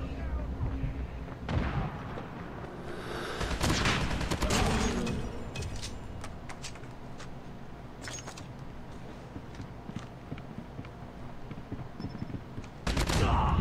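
Rapid gunfire from the mobile shooter game Call of Duty Mobile, with dense bursts of shots clustering near the start and middle over steady game ambience, and a loud burst returning at the end.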